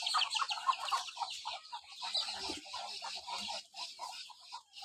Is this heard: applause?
no